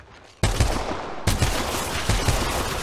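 Gunfire in Apex Legends bursts in abruptly and keeps going as loud, close, rapid shots in clusters, with a brief break before another volley.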